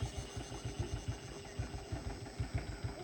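Turbocharged car engine idling with a rough, rhythmic low chugging pulse, steady and close, in a small village in the forest of northern Laos.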